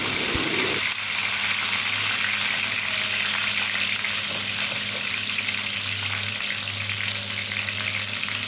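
Chopped eggplant frying in oil in a home kitchen, giving a steady, loud, close sizzle that runs unbroken the whole time, with no one talking.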